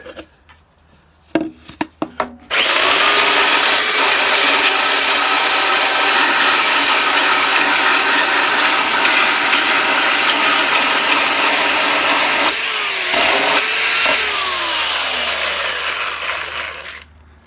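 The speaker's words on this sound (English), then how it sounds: "I'm going to bust out the power sander." A power belt sander grinds loudly and steadily against the wooden body of a cigar box guitar, starting after a few brief knocks, with a short dip in pitch midway before the motor winds down at the end.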